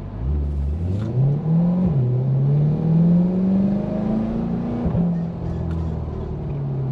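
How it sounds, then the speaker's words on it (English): A Chevrolet Corvette C8 2LT engine revs under load, its loud steady drone rising in pitch over several seconds, dipping once at a shift, then climbing again and easing off, heard from inside the car. "let's put that rear window down and maybe hear the engine a little bit better"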